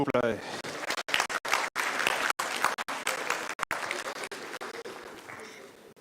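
Audience applause at the FANAF 2019 conference during a trophy presentation, clapping running steadily under a presenter's voice speaking over it, fairly loud and continuous throughout.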